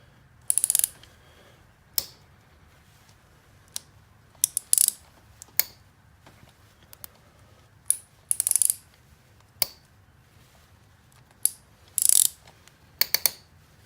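Ratchet clicking in short bursts as it works a corroded spark plug back and forth on a 2004 Saab 9-3, close and distinct, about a dozen brief runs of pawl clicks separated by pauses.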